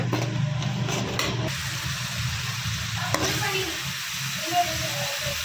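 Tomato paste fries in oil in a pan for a fish curry while being stirred, giving a steady low sizzle and scraping with a faint voice now and then in the background.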